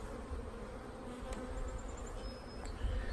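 Packed honeybee hive, dense steady buzzing of many bees close up and alone, with a few brief higher whines of single bees passing near.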